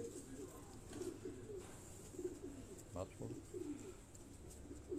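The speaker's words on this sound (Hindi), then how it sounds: "ये टोपी वाली वो ब्रीड के ये जो कबूतर हैं" Cap-crested breed pigeons coo close by in repeated soft, throaty rolling phrases, several calls overlapping over a low background hum, with people talking faintly underneath.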